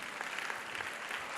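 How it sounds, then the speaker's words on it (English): An audience at a teens conference claps in a brief burst of steady, dense applause that sounds a little distant and soft, with no voice over it. "Give him a round of applause,"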